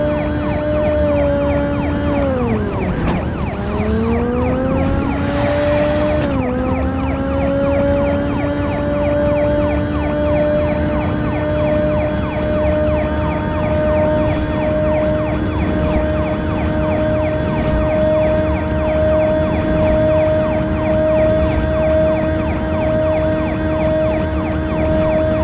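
Police sirens in the video game Pursuit Force, a loud continuous electronic wail that dips and sweeps, then settles into a steady held tone, heard without any talking.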